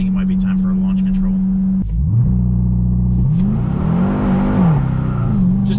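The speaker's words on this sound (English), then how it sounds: "Just did a four-wheel burnout." A 2021 Dodge Durango Hellcat does a four-wheel burnout, its engine holding a loud steady drone, then dipping and surging with rising and falling revs, close and continuous as a person talks over it.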